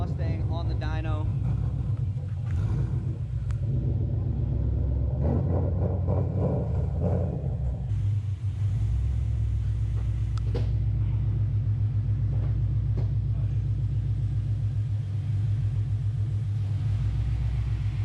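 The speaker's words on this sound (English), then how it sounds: "we're gonna pull the Mustang on the dyno" A Ford Mustang sits on a dyno, its engine giving a deep, steady low rumble that drones on continuously while people talk over it.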